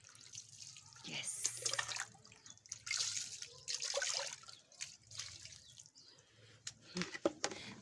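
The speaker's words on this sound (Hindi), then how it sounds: "टमाटर भी धो लेते हैं।" Tomatoes are rinsed under a kitchen tap, with splashing water and drips in uneven bursts close by, broken by short pauses and a faint hum.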